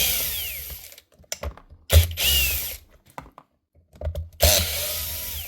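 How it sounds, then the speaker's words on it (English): Four small screws backed out of the base of a power tool with a cordless driver, quick close ratcheting whirs in separate bursts with short pauses and small clicks between. "Pull off the base, 4 wee screws"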